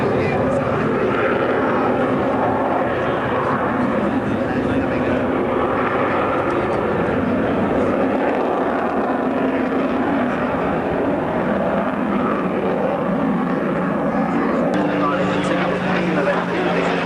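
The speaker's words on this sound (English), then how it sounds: "Designed as an interceptor aeroplane" An interceptor aircraft at the 1991 RAF Valley air show on Anglesey roars loudly and continuously, a broad engine rumble that fills the whole stretch while a commentator talks over it.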